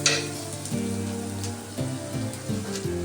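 Drumstick leaves frying in a pan, a crackly sizzle with sputtering pops and a faint clink of utensils, close and moderately loud, with no speech.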